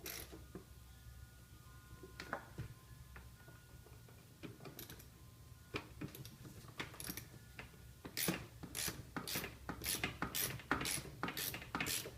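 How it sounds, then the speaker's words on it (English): Ratchet tightening the fork bolts on a BMW E70 X5 during an engine partition replacement, scattered clicks and handling at first, then a rapid run of sharp ratcheting strokes, close and quiet, no talking. "So the last thing I'm going to do is just tighten up those forks in the front."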